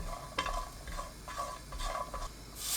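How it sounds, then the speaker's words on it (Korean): Dried soup anchovies, fifteen of them, stir-fried with a little oil in a pot over high heat, giving a steady low sizzle broken by a few scraping stirs, close and fairly quiet. "냄비에 순지랑 국물용 멸치 15마리 넣고 센 불로 1분 볶아줍니다"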